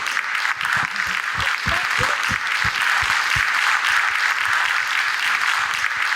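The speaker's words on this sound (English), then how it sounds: "A big round of applause, please." A congress audience applauds volunteers called up on stage, a loud, continuous wash of clapping from many hands with distinct sharper claps close by in the first few seconds, carrying on steadily throughout.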